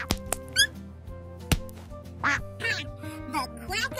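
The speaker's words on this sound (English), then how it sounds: "The quack of approval." A cartoon duck in a preschool Thanksgiving show quacks several times in bright, squawky bursts, mixed with tapping and chopping sounds and light music.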